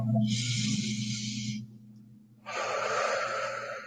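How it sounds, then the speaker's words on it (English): A long, deep breath during a relaxing meditation, airy and close, with two broad breathy stretches separated by a short quiet pause, over a low steady hum. "And then inhale."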